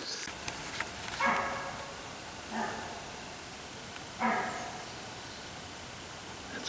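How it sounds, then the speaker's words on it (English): An elk gives three short, sharp barks at spaced intervals from a distance on a mountaintop in Lincoln National Forest, over a steady hiss of outdoor background noise. "apparently my scent blew over to an elk and started barking"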